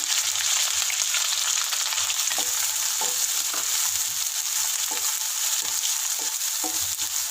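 Crushed shallots frying and sizzling in hot oil in a pan for a Kerala-style fish curry, a steady close crackle with occasional stirring clicks and no talking.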